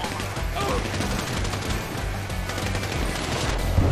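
Sniper and other gunfire in a Grand Theft Auto V gunfight, a dense, continuous barrage of shots layered over a loud, busy game mix for the whole stretch, with no speech.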